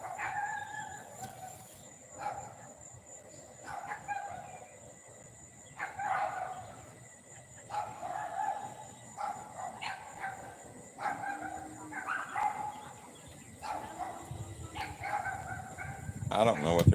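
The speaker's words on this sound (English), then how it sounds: "I don't know what they're barking about." Several dogs barking in bursts at a home, fairly distant and moderate, with repeated barks spread through the stretch, a rooster-like cry among them, and a person talking faintly between.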